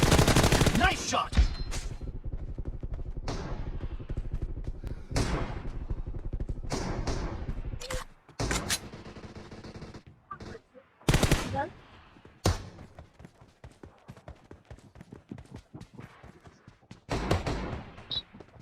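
Bursts of M416 rifle fire in a BGMI (PUBG) team deathmatch, played on the BlueStacks emulator: loud rapid volleys and single shots crackle in repeated clusters over about eighteen seconds, with brief pauses between them.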